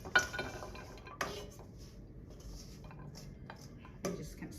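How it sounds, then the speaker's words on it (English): Berry filling spooned into the bottom of a baking pan: a few faint spoon clinks and taps against the dish at irregular intervals, quiet and close, with no talking. "we're going to take your berry filling and we're going to put it in the bottom of the pan"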